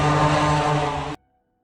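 Loud, steady droning buzz of a Shahed 136 kamikaze drone's Mado 550 combustion engine, a harmonic engine whine that cuts off abruptly after about a second.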